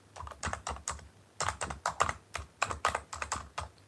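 Soft, quiet tapping on a computer keyboard, with clusters of light keystrokes in an irregular typing rhythm, heard close up with no voices.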